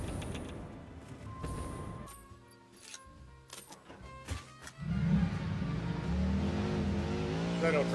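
Vehicle in a video game driving off with clicks and mechanical clatter first, then an engine rising into a steady revving drone for the last few seconds.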